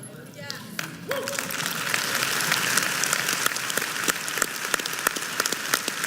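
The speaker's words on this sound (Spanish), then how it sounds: "eso merece un aplauso más fuerte para el Señor" Congregation applause at a Spanish-language church service, a sustained patter of many hands that builds after the first second, with scattered sharper claps and faint voices underneath.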